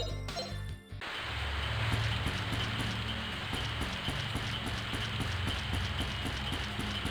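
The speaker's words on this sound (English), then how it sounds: "I'm really glad this rain sound effect does not take place inside a battle." Rain falling in Grandia, a continuous patter with regular soft ticking drops over a low steady rumble, following a brief burst of other game sound at the start.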